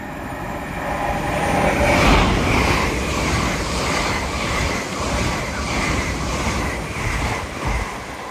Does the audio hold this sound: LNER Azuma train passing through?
yes